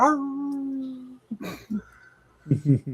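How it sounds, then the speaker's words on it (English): A dog gives a sustained tonal howl at the start, then falls silent, followed by short bursts of a person talking. "I can record the howl myself and stuff"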